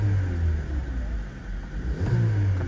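A 2017 Skoda Octavia with a 1.6 engine and automatic gearbox idles close by with a low, even rumble and a slight rise in revs near the end, a voice talking over it.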